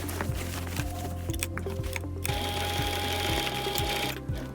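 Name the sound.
sewing machine stitching back over a fabric patch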